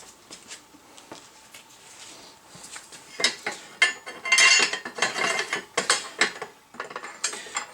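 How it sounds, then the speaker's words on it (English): Cheap Harbor Freight quick-release C-clamps being worked in a garage while building a control arm jig, giving close metallic ratcheting clicks and clanks that grow louder and busier partway through, with no speech. "These quick release C-clamps, they're Harbor Freight."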